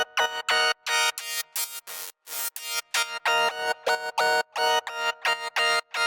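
A bright, buzzy synthesizer tone rich in upper harmonics, chopped into rapid repeated pulses with brief gaps, steady and fairly loud with no voices.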